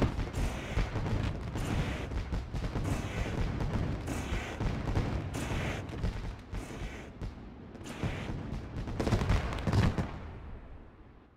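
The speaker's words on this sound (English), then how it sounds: "Those fireworks always scare me when they go off here." Fireworks at Eldora Speedway, a dirt track, go off as a rapid barrage of loud booming bursts and crackles, densely overlapping for several seconds before fading out.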